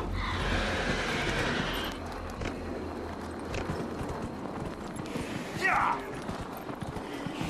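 A horse gallops in Dragon Age Inquisition, its rapid clip-clop hoofbeats steady and near throughout, with a short whinny partway in, all under someone talking.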